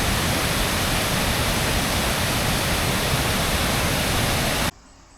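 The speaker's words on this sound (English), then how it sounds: "This waterfall and the rapids below it are at mile marker 12." A waterfall and rapids on Deckers Creek in West Virginia give off a loud, constant rushing roar that runs steadily for about five seconds, then cuts off abruptly.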